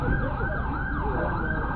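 An ambulance siren wails continuously on a Lower East Side street in New York, its pitch sweeping up and down in a steady cycle, loud and close with road rumble beneath.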